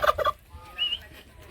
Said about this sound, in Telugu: టర్కీ కోళ్ళు ఉన్నాయి ఇక్కడ.